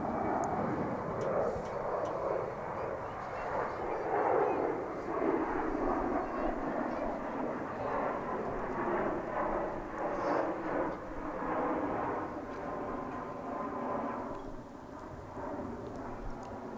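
An American Airlines jet airliner roars past at Dallas/Fort Worth International Airport, a broad rumbling engine wash that swells and slowly fades, heard from a distance outdoors.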